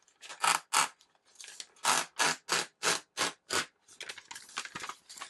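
Thermal paper ripped off a Fitrobust wireless portable printer, a run of sharp close tearing bursts in quick succession, then a softer ragged stretch of smaller rips, no talking.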